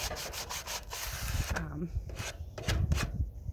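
Sandpaper rubs along the edges of stained, wood-burned wood in quick rhythmic strokes, close and scratchy. A brief voice sounds partway through.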